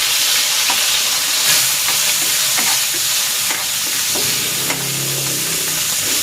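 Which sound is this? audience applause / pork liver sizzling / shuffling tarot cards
pork liver sizzling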